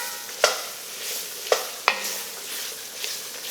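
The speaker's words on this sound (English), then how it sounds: "We're going to stir this in, cook it in for about 5 minutes" Vegetables are stirred into a chicken, shrimp and andouille sausage gumbo pot over a soft, low sizzle, with three sharp spoon knocks against the pot and a few lighter scrapes.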